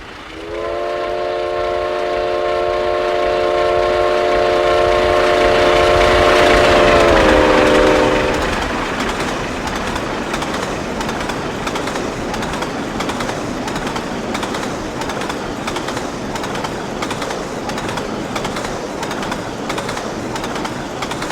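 A steam locomotive hauling a heavy passenger train sounds a loud, sustained multi-tone whistle for several seconds, then the whistle cuts off and rhythmic exhaust chuffs and rolling rail noise carry on steadily.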